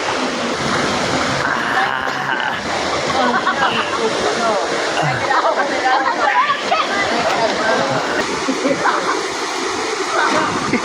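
Inambakan Falls in Ginatilan, Cebu pours with a loud, steady rush of water crashing into its pool, a dense continuous roar that fills the whole scene.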